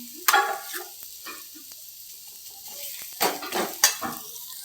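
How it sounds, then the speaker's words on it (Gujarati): Spoon scraping and stirring spice masala into browned onions in a pan, with a light sizzle underneath and sharp metallic clinks, close and intermittent. "મસાલો એડ કરી દેવાનો આ રીતના પછી અંદર મિક્સ કરી દેવાનો બધો મસાલો નાખી"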